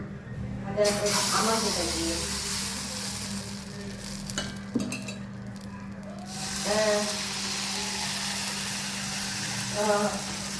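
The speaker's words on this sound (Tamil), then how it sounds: "சட்டி சூடாயிடுச்சு. கலக்கிட்டு ஒரு கரண்டி ஃபுல்லாக எடுத்து ஊற்றணும்." Appam batter is poured into a hot pan and sizzles steadily in a soft frying hiss, with brief scraping and clinks of a ladle and someone speaking over it.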